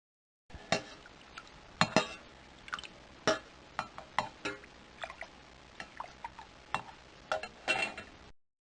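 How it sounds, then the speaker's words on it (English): Clattering and clinking of a pot in a 1993 DOS PC children's reading game of The Tale of Peter Rabbit, a series of sharp metallic knocks and clinks spaced irregularly over several seconds, fairly quiet. "Pot."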